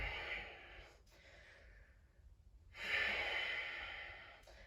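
An inhale during a yoga flow as the arms reach up, two soft, breathy airflow swells heard close and alone, with a quiet pause between them.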